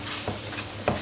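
Chopped onions frying in oil in a pot, a soft steady sizzle with a couple of faint stirring scrapes, close and quiet.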